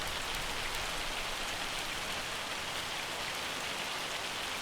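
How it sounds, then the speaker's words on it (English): Hail falls in Farming Simulator 25, a steady, dense hiss of many small impacts that stays constant and fairly quiet throughout, with no voices. "Is the hail ever going to stop?"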